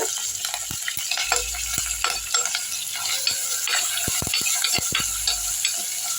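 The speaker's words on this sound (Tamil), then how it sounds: "பச்சை மிளகா நல்லா வதங்கிருச்சு வெங்காயம் போடுவேன்" Onions and green chilies sauté in hot oil for an egg gravy, giving a steady close sizzle throughout with repeated scrapes and clinks of a spoon stirring the pan.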